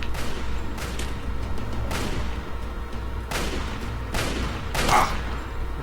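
Gunshots in Fallout 3 during a hunting rifle fight, about five sharp loud reports spaced roughly a second apart over a steady low game rumble, with no talking.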